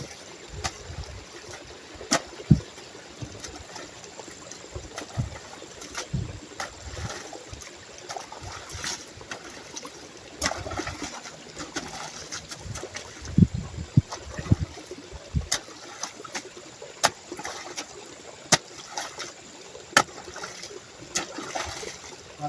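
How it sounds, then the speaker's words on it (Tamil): Standing pooled water drains out, flowing and trickling steadily with scattered splashes and clicks, close and moderately loud, for a sustained stretch. "எவ்வளோ தண்ணி வருது பாருங்க."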